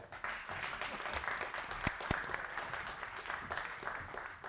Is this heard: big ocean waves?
no